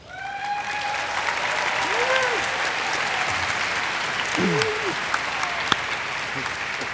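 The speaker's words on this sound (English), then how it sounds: "let's give an applause for Michael, who's coming up here." A large audience applauds at the Minecon 2013 convention, with dense, sustained clapping throughout and a couple of whistles rising above it.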